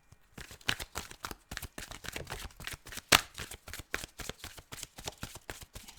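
Tarot cards are shuffled and riffled in quick, crisp bursts, close up, with a rapid uneven rhythm and no talking.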